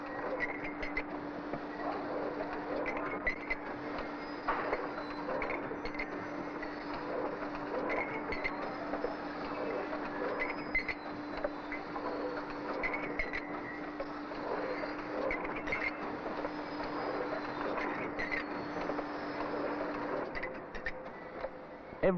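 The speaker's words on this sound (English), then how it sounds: "Now look how quickly the pattern is put on a mug when it's done by machine." A 1970s machine prints a pattern onto pottery mugs with a continuous mechanical whirr and rattle and a steady tonal hum, holding evenly at moderate volume for the whole stretch with no talking.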